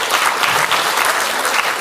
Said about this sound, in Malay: kita berikan tepukan kepada Dr. Rozaimi